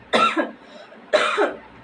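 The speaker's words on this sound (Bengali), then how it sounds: "কিরকম কাশি হচ্ছে দেখতে" Two separate harsh coughs about a second apart, close and fairly loud, with quiet between them.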